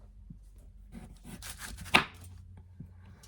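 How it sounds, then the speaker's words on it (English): A kitchen knife, not a paring knife, cutting food with a handful of quick scraping strokes and one sharp knock on the board, quiet and close. "Now, I'm not the best cutter in the world, so it's not the best knife to use."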